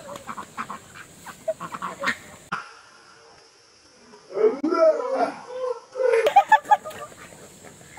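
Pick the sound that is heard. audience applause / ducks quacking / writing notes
ducks quacking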